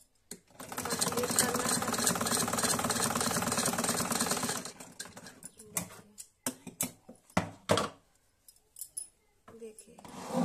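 Sewing machine stitching a band collar kurti, a steady close rapid stitching hum for about four seconds, then stops into handling clatter and brief speech.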